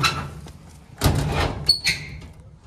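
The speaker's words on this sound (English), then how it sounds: "So we'll shut this door." A garden shed door with louvers is pulled shut, giving a solid thump followed by a brief squeak and rattle of the latch, close by.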